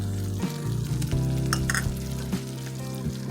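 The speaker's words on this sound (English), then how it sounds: "our tomato paste. And we're going to mix until well combined." Tomato paste sauce is mixed in a pan over heat, giving a loud steady sizzle with close scraping stirs, while a low hum runs underneath.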